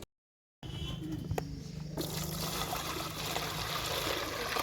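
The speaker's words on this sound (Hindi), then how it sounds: "उसमें एक एक कबूतर को अच्छी तरह से दोनों हाथों से उसको भिगा कर निकालना है" A pigeon is dipped in a white water solution to treat lice and flies, giving a steady close splashing and trickling of liquid after a brief silent start.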